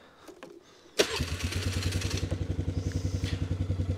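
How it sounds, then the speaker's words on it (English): A quad ATV engine starts in cold snowy weather. After a quiet moment a sharp crank catches, and the engine settles into a close, steady, rhythmic idle chug. "So anyway, start the quad."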